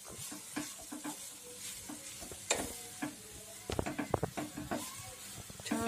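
Sweet potato fries in ghee in a pan, crackling and sizzling softly beneath repeated scraping and clinking stirring strokes, close up and fairly quiet, with no talking.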